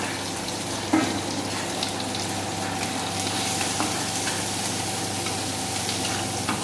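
Garlic, capsicum, onion and bell pepper frying in a pan, giving a continuous hissing sizzle with occasional soft stirring clinks. The sound is steady and close, with no talk.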